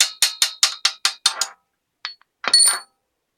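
A punch tool tightens a part on a vintage bicycle, producing a quick run of seven sharp metallic clicks, then a pause and a couple of scraping, rattling bursts of metal, close and fairly loud.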